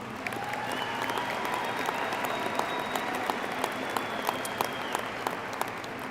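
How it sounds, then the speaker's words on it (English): A crowd applauds steadily, a dense patter of clapping that holds at an even level the whole way through. "Let's give them a round of applause."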